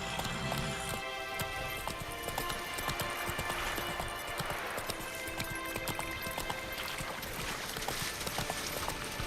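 A horse gallops in The Witcher 3 video game with steady rapid hoofbeat clip-clops over a busy game soundscape, moderately loud and continuous.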